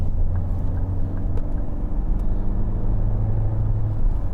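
A 2011 Ford Mondeo 2.0 TDCi Zetec estate accelerating, heard as a steady, close diesel engine rumble with road noise throughout, and no one speaking.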